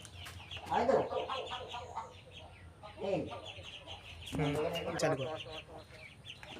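Chickens cluck in short bursts nearby as evening falls, the calls rising and fading in several clusters, with people talking faintly in the background.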